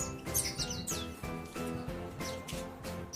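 Pleci (Japanese white-eye) birds chirping steadily with repeated bright tweets over a busy background, close and continuous.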